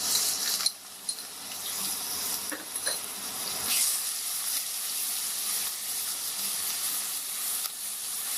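Chopped garlic and ginger dropped into hot oil for dal makhani, a bright steady sizzle with a few clatters of stirring early on and no voices.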